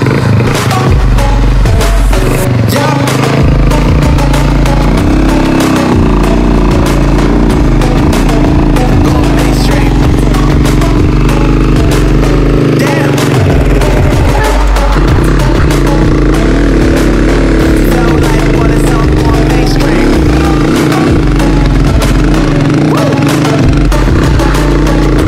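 A Honda 125 motorcycle engine straining as it tows a car on a slope, a loud, close, steady chugging drone that rises and falls throughout.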